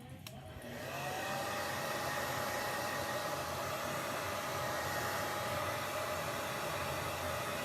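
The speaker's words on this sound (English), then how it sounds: "now I'm gonna grab my blow dryer" A hair dryer switches on and blows with a loud, steady rushing roar that holds without pause.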